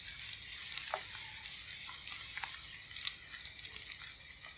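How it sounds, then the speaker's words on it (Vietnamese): Vegetarian fish, a meat-free silver pomfret style piece fried with ginger, crisping in hot oil in a pan, giving a steady close sizzle with scattered small pops and crackles throughout. "Mình sẽ chiên cho nó giòn đều nha."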